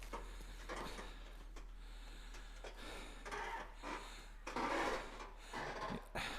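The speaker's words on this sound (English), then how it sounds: "It makes that squeaking sound," Ungreased squeaking from a firewood cart or rack part that needs grease, at a firewood pickup, heard as several scraping squeals of rising and falling loudness, loudest near the end, fairly close.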